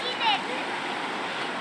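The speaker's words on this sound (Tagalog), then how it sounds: "oh, grabe ang agos ng tubig dito." Strong river current rushes through the Majayjay river in Laguna, a broad, steady hiss of fast-moving water close by, with a brief faint voice near the start.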